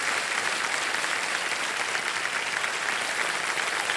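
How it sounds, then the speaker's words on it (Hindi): A studio audience on the Kaun Banega Crorepati game show claps in sustained, even applause, dense and steady for the whole stretch, heard from within the crowd. "तालियां बज जाए"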